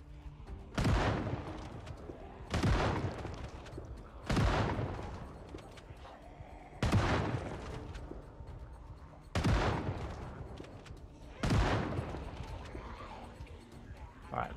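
Gunfire in a video game rings out as six sharp, loud shots spaced a couple of seconds apart, each with a long fading tail of echo.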